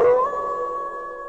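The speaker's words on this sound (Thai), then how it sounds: "พร้อมกับมีเสียงหมาหอนตลอดทาง" A dog howls in a long, sustained wail that swells at the start and then holds a steady, slightly wavering pitch, set against a quiet dark backdrop as an eerie effect in a Thai bedtime ghost story about a night walk to a temple cemetery.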